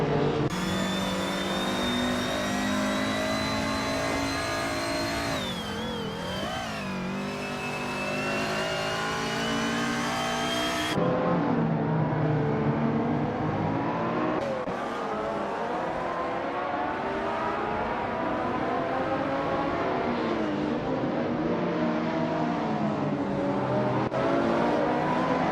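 Race car engines rev and shift in a racing video game, including a 1996 Maserati Ghibli, loud whining tones rising and falling with an abrupt change midway and no talk.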